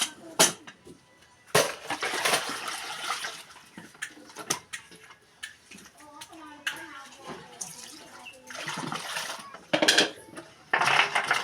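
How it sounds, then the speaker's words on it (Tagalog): Dishes, plates and glasses washed by hand with scarce water, bursts of clinking crockery and splashing in irregular clusters, close and fairly loud, with quieter gaps between. "maghugas ng plato, pinggan, ang aming pinagkainan"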